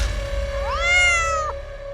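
A cat gives a single clear, rising-then-falling meow, close and fairly loud, over a faint steady hum, with no talk.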